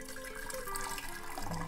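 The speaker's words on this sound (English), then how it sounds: "Strain the mixture" Blended lime lemonade mixture being strained, a steady trickling and pouring of liquid through a strainer, close and continuous for under two seconds.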